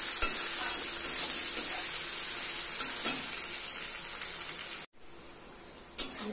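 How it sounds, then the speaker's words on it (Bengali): Onions with salt for a fish curry masala fry loudly in a pan, a constant hiss and crackle with light stirring scrapes. The sizzle drops suddenly near the end, then resumes more quietly after a brief clatter. "দিয়ে আবার ভালো করে নেড়ে চেড়ে দিতে হবে"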